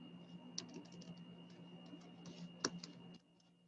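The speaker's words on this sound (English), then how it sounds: "I'm gonna type it" Keys clicking on a computer keyboard during video-editing software work, a quiet, steady patter of light taps with a couple of sharper strokes, then falling silent near the end.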